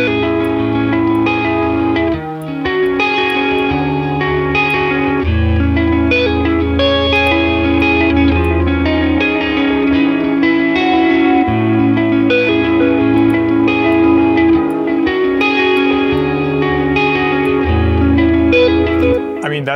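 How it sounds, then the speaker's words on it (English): An electric guitar plays chords through heavy processing, with shimmering chorus, echoing delay repeats and a wide reverb wash, loud and sustained. "that's like a fully processed, awesome guitar amp sound"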